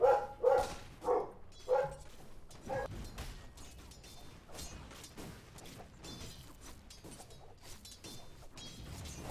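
Dog barking in a Dota ability draft match: several sharp, loud yips in the first few seconds, followed by clattering in-game mechanical and creaking effects with no voices.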